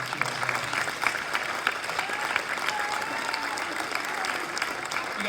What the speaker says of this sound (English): I do want to give our staff a round of applause for how well they've done this year